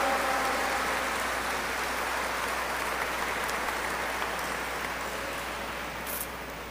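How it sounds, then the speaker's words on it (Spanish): A church congregation applauds at a Sunday gathering, a dense, sustained clapping from many hands that holds steady for several seconds and then slowly fades, with no talking over it. "¡Que se oiga el aplauso a nuestra Madre y Señora!"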